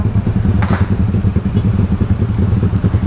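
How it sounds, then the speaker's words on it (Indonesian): Motorcycle with a loud, noisy aftermarket exhaust riding through a busy junction in Bogor traffic, its steady throbbing engine drone continuous and close throughout, with a brief clatter early on. "Sa, kata kamu berisik ya knalpotnya? Berisik banget apa berisik aja"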